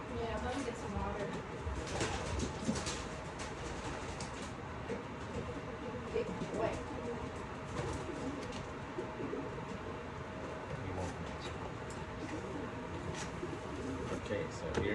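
Pigeons coo softly while their owner rehomes them, low murmuring calls heard under a man's close-up talking, with faint rumbling in the background.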